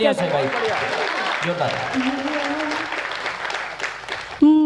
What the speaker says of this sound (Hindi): आप लोग तालियां बजाकर आदेशित